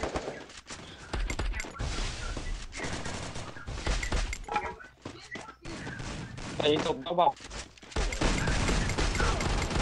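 Rapid gunfire bursts and single shots in a competitive shooter video game, loud and repeated throughout, with a player talking over the shooting.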